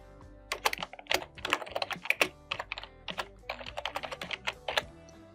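Fingers type a document title on a computer keyboard, tapping out quick, irregular bursts of crisp key clicks with brief pauses between words. The keys sound close and clear in a quiet room.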